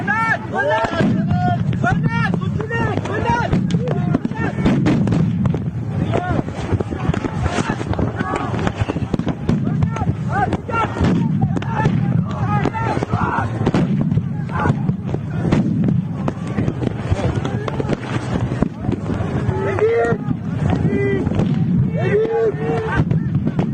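At the Sainte-Soline protest, repeated explosions burst amid a crowd, with shouting and calls for medics mixed into a dense, chaotic din.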